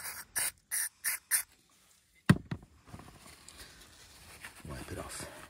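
Carburetor cleaner sprayed from an aerosol can onto a Kawasaki Brute Force 300 carburetor, four short hissing bursts close to the mic, then clatter and quiet handling noise.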